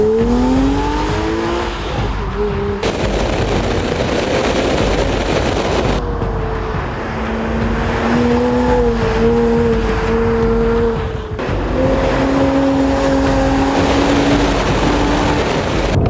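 An entry-level Porsche Boxster with 255 horsepower driven hard on a race track, its engine droning steadily with rising and falling revs across several gear changes, loud and continuous without speech.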